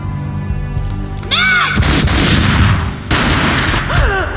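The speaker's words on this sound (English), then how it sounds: "A gunshot boomed and she fell down in slow motion" Gunfire in the video game Max Payne: two loud, booming broadband blasts with lingering rumble, separated by about a second, amid swooping whooshing game effects and a low background tone.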